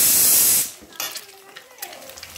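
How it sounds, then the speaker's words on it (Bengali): Eggs drop into hot turmeric-tinted oil in a home kitchen, a loud spraying hiss that fades after a moment into a softer, crackling sizzle. "তো এর মধ্যে আমি ডিমগুলো দিয়ে একটু ভেজে নেব।"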